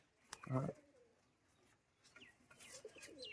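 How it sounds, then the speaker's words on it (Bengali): Giribaj pigeons give a soft, close coo at the start, then faint chirps and light fluttering follow in a quiet setting. "এই দেখুন সব গিরি বাজ পায়রা দেখুন আর এগুলো একবার ছাড়ি"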